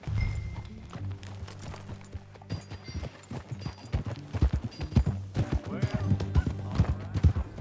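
Horse hooves clip-clopping in a steady rhythmic gait while riding in the video game Red Dead Redemption 2, close and clear, with a low background score and a snort near the end.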